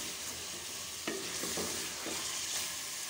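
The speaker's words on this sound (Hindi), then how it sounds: "अभी हम डालेंगे इसके अंदर लहसुन अदरक का पेस्ट, वो भी साथ ही हम ब्राउन करेंगे।" Garlic-ginger paste browns with chicken and onion in a pan for aloo chicken, giving a soft, steady sizzle broken by a few stirring scrapes, fairly quiet and close, with no speech.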